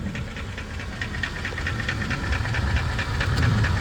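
Mercedes-Benz W220 S-Class engine, S430/S500, running and heard from underneath the car, a steady loud rumble with a fast rhythmic ticking and hissing layered on top that grows slightly louder toward the end.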